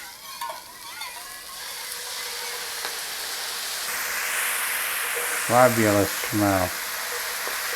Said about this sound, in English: In with those green onions, those big thick pieces. In with our sauce.